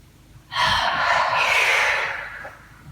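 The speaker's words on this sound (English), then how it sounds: "deep inhale from the belly" A deep belly inhale during a yoga breathing exercise, one long, close, breathy rush of air that swells quickly and then tapers off over about two seconds against a quiet room.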